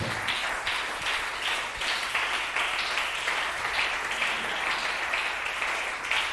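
A congregation at a French-language church service applauds together, a steady, dense wash of many hands clapping at close range that fills the room without a break.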